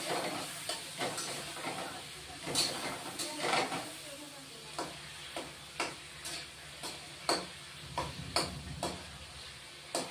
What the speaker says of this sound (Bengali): বেশি ভাজবো না বন্ধুরা, বেশি ভাজলে একদম শক্ত হয়ে যায়